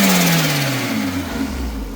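A turbocharged Nissan R34 Skyline engine revs steadily, its pitch sliding downward as it eases off, loud and close with a rough low rumble throughout.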